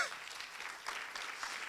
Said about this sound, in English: Could you clap for that?